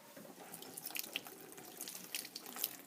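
Water streams steadily through a small demonstration turbine in a classroom, a faint continuous splashing and trickling like a running tap, heard alone without talk.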